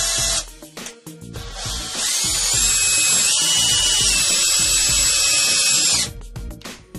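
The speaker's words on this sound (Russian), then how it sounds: "Сейчас я подставлю переходник, и мы попробуем закрутить кровельный саморез." A cordless screwdriver fitted with a flexible shaft extension drives a roofing screw: a few short motor bursts, then a loud sustained high whine for about four seconds that winds down, close by.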